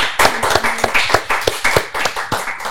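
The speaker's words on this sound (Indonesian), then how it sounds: "Tepuk tangan semuanya." Audience clapping in a comedy show setting, a dense burst of claps with sharp individual hand strikes close and loud, steady for a few seconds without talk.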